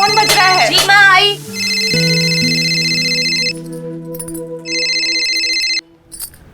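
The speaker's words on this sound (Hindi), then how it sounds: "तेरा फोन बज रहा है।" A mobile phone rings indoors with a loud electronic melodic ringtone of repeated tonal phrases, following a short burst of speech at the start.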